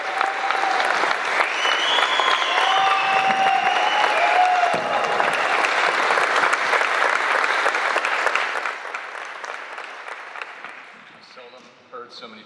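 An audience at a military change of command ceremony for the new 317th Airlift Wing commander applauds and cheers, with a loud, sustained wash of clapping and a few whistles that gradually fades toward the end.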